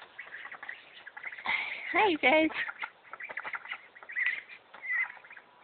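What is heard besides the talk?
ducks in their pen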